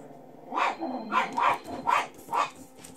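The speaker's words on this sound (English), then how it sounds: "Dogs are barking because my mom's phone is ringing." Several small dogs indoors bark in short bursts at a ringing phone, about five sharp, moderately close yaps spaced unevenly across the moment, with no talking.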